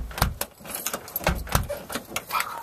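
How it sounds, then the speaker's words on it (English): Keys jangle and clink in a series of quick metallic rattles as someone unlocks a house door on returning home, close and fairly quiet, with no speech. "I'm trying to unlock this goddamn door."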